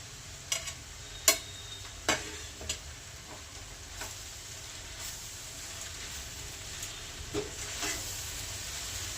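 Seasoning chutney mixed into atta Maggi noodles in a pan, scattered sharp scrapes and taps of a spoon against the pan over a low steady sizzle, the strokes thinning out as the stirring slows, no talk.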